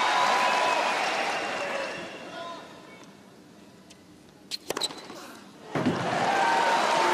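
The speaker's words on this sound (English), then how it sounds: "And the crowd urging him on here. Big bonus this is." Tennis crowd at the Australian Open applauding and cheering during a third-round match, a loud wash of clapping that fades to quiet, a few sharp knocks, then swells again, with a commentator speaking over it.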